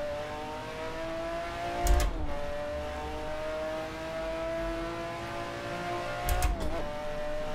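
McLaren F1 GTR race car engine in a sim racing game, a steady droning hum that holds pitch, with two brief revving blips and downshift dips partway through and near the end.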